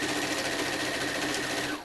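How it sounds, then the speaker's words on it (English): A sewing machine runs continuously, joining quilt rows with a fast, even mechanical whir close by that slows at the very end. "now I get to sew the other 2 rows"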